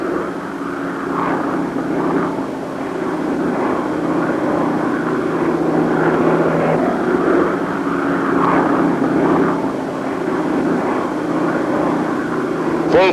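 A 1950s Delta Air Lines propeller airliner lands under a steady, loud, droning roar of engines that holds throughout, with cockpit talk faint beneath it.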